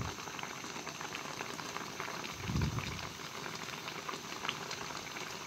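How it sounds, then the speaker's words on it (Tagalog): A pot of tilapia sinigang soup bubbles at a steady rolling boil, a dense, quiet simmering hiss with an occasional louder bubbling surge. "kumukulo na"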